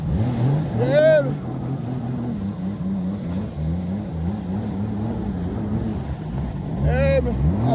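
A jet ski engine runs loud and steady on open water with a continuous droning hum, its pitch swelling briefly near the start and end, and a voice occasionally audible over it.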